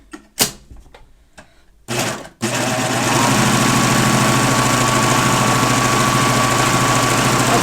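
A Babylock serger runs a wave stitch test, starting after a few clicks and thumps from lowering the presser foot, then a loud, steady, fast mechanical whir that continues to the end without talk.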